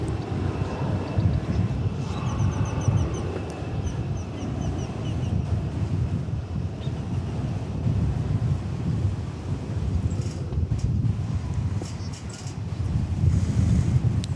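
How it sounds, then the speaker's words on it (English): Steady gusting wind buffets the microphone at a busy airport, a continuous low rumble that swells near the end, with faint aircraft engine noise mixed in. "Wind is picking up here quite a bit again."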